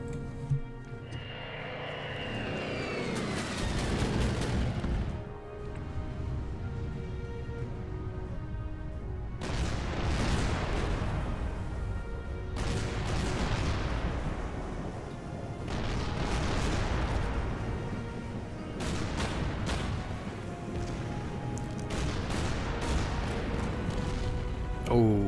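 Gunfire and artillery from the war strategy game Order of Battle Pacific, Japan campaign: repeated heavy booming blasts and rattling shots in bursts, with an aircraft-like whine early on, loud and continuous over a rumbling bed.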